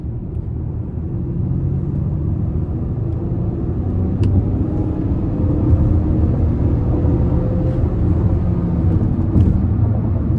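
A Lincoln Nautilus Premiere II AWD with a turbo four-cylinder pulls under light throttle on the interstate, giving a steady, subdued low engine and road rumble that swells slightly as it gathers speed.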